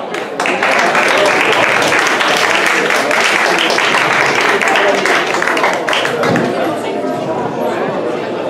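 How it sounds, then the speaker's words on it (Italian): Applause at a boxing event: a crowd claps loudly and steadily for several seconds, with voices and chatter mixed into the clapping before it eases slightly toward the end. "c'è un applauso. Applauso."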